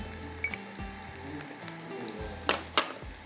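Cumin and spices frying in oil for a khatti lauki tarka, a low steady sizzle with a few soft stirs and two sharp metallic clinks of a utensil near the end.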